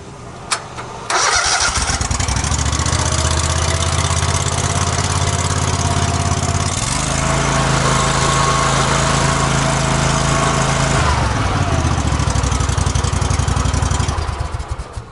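Hustler Super Z zero-turn mower engine with a repaired exhaust pipe and muffler cranks, catches and runs loud and close, then settles into a steady idle before shutting off near the end.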